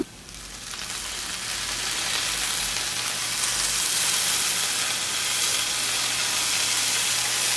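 Lime juice poured over frying nethali karuvadu (dried sprats) in a pan, a steady crackling sizzle that swells after the first second and holds, close and fairly loud, with no voices.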